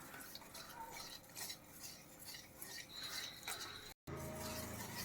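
Plantain fritter batter is stirred with water in a bowl, giving a steady wet scraping and clinking with a utensil throughout, broken by a brief gap near the end.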